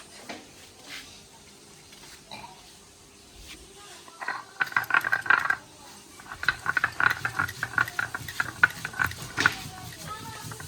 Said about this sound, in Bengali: এখন বেটে নেবো শুকনো লঙ্কা।